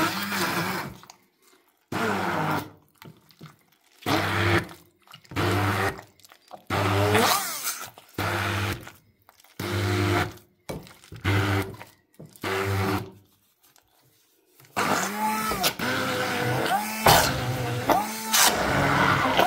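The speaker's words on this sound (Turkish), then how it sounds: "Şimdi güzelce bunu şu blenderımızla çekeceğiz." A kitchen blender whirs through a tahini mixture in short, loud pulses separated by brief pauses, then runs continuously near the end, close and strongly motorized.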